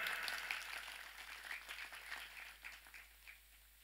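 Faint, distant applause from an audience at an evening community gathering in Jember, a continuous soft wash of clapping lasting several seconds with no talk over it.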